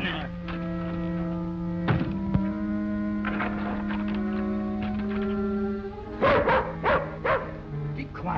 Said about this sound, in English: here comes his dog